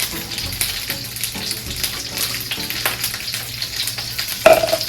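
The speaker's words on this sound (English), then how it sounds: "And we want to give this a nice stir." Turkey wings in a pan with about three cups of water and seasonings, stirred with a utensil, giving soft sloshing and scraping over a low simmering sizzle, with a sharper clatter near the end.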